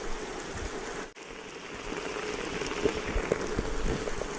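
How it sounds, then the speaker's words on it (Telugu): Heavy rain pours down outdoors near a stream crossing, a dense continuous roar of drops with close patters on a surface, briefly cut out before resuming steadily. "ఫుల్ వర్షం పడుతుంది"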